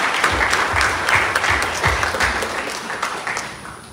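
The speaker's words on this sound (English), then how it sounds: "please join me in giving ourselves a round of applause" A meeting audience gives itself a round of applause, with scattered, fairly close hand claps over a steady clapping bed that gradually fades across four seconds.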